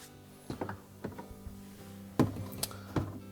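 On a Whirlpool dishwasher, a plastic manifold is pushed onto the pump outlet, giving a few close knocks and plastic clicks, with a sharper snap near the end, in a quiet room with no voices.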